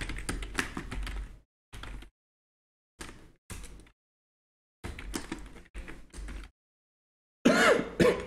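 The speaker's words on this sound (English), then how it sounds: "I have typed 4 lines." Keys tapped on a computer keyboard while writing a Python file, in several short bursts of quick clicks separated by pauses, fairly close and with no talking.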